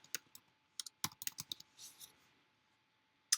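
Typing on a computer keyboard: a burst of sharp, close key clicks in an irregular rhythm, then a pause and one final click, with no talking.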